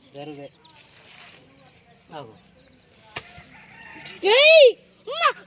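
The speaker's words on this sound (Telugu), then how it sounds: "ఇవే ఫ్రెండ్స్ మా కోళ్ళు." Hens cluck and squawk in short bursts close by, with some louder calls toward the end and a person talking intermittently.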